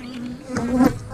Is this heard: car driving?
no